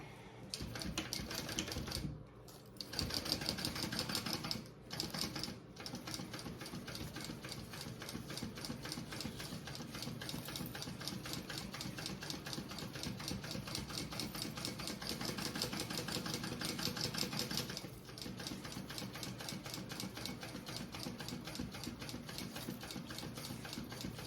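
A sewing machine basting binding onto a travel belt, running in a steady, rapid mechanical chatter for about twenty seconds with a few brief pauses, close by and with no talking.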